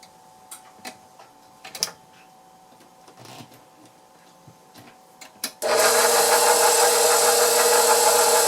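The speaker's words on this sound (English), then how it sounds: "I'm going to use the whisk attachment to get it to blend a little bit until it starts forming soft peaks" After a few scattered small knocks and clicks, an electric mixer with a whisk attachment switches on for meringue and keeps up a loud, steady, close whir until the end.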